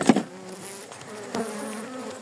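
Honey bees buzz busily around an open colony as a swarm is being formed, a close, steady drone of many wings with a few louder passes near the listener.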